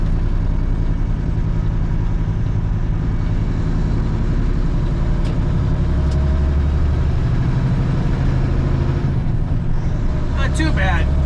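A dump truck idles and creeps through backed-up traffic at an on-ramp to I-95, its engine rumbling steadily with a rattle inside the cab, a brief hiss like an air brake near the end.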